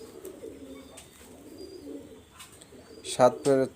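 A Teddy baby pigeon coos softly and low, its murmuring calls continuing faintly in the background before a brief voice breaks in near the end.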